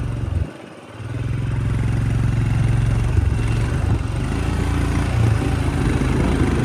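A motorcycle is ridden along a road near Sissu in the Lahaul Valley. Its low engine hum runs steadily under heavy wind buffeting after a brief dip at the start.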